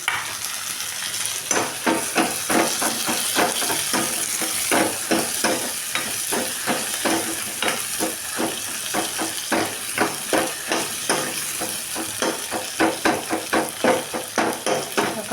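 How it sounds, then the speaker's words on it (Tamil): Tomatoes sautéing with ginger garlic paste in a pan for a mushroom gravy, steady sizzle under rapid, rhythmic scraping and tapping of a utensil stirring against the pan, close and continuous with no talk. "தக்காளி கொஞ்சம் வதங்கட்டுங்க."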